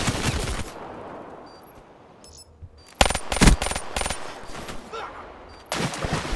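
Bursts of automatic gunfire from the Man of War rifle in Black Ops multiplayer: a loud opening volley, a quieter lull, then several rapid sharp bursts and another volley at the end.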